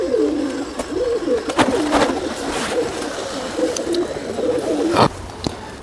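A pet pigeon coos in repeated, rolling low calls, close and clear against a faint outdoor background with a few sharp knocks.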